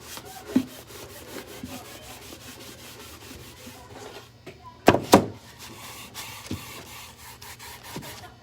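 Dried gold wax being buffed to a burnish, a soft dry rubbing that comes in faint strokes across the clip, with a sharper brushing burst midway, close and quiet.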